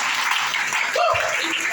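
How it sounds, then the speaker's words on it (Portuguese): A church congregation claps in a brief, dense wash of applause, with voices faintly mixed in. "Você pode aplaudir aí?"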